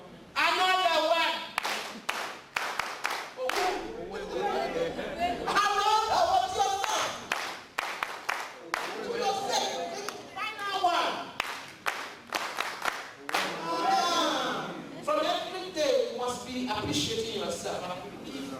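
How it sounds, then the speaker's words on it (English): A group claps repeatedly in bursts at a prison workshop on inmates' behavioural and cognitive modification, with sharp, dense hand claps, brief pauses between rounds and voices mixed in. "Can we clap for ourselves?"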